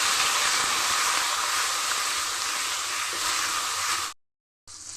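Spices frying in oil for a vegetarian jackfruit dish, a loud, close, continuous hissing sizzle that breaks off abruptly into a brief silence before resuming.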